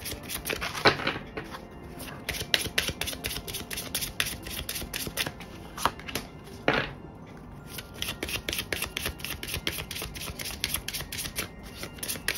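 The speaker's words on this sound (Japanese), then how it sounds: "では、アドバイスカードを引かせていただきます。" Oracle advice cards shuffled and handled in a fortune-telling reading, a long run of dense, close papery riffling and rubbing with a few sharper snaps and taps, with no talk over it.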